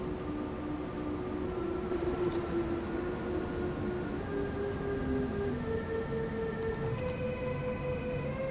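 An ÖBB 1016 electric locomotive pulling away slowly in Train Sim World 2, its traction motors whining in a steady tone that climbs gradually in pitch over a low rumble, with no voices.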